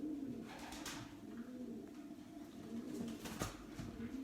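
Pigeons coo steadily inside a racing pigeon loft, a low rolling warble repeating throughout with brief rustles and a soft wing flutter near the end, close and continuous with no talking.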